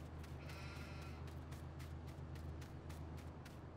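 Sheep bleat repeatedly in the Landwirtschafts-Simulator 19 farming game, on the Ravenport map, set over a steady, faint background hum with no talking.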